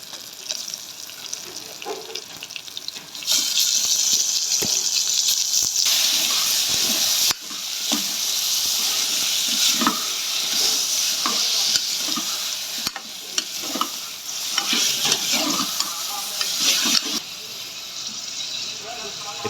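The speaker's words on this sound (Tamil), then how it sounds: "இப்போ நம்ம பீஃப் சேர்த்துக்க போகிறோம்." Beef goes into a pan of softened onions and green chilies for a Tamil-style beef gravy, setting off a steady loud sizzle broken by scraping spatula strokes and occasional clatter as the pieces are stirred.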